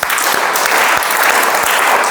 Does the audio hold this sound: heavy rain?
no